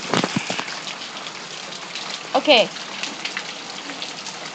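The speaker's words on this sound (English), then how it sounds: "It's hailing right here." Rain mixed with hail falls just outside a door, a steady close hiss and patter of hitting drops and stones, with a voice speaking briefly over it.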